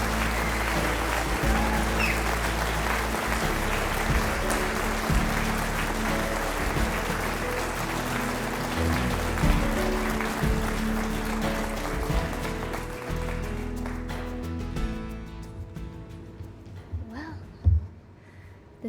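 An audience claps steadily and densely to congratulate an award winner at a ceremony, a continuous wash of applause that thins out into scattered individual claps and fades toward the end.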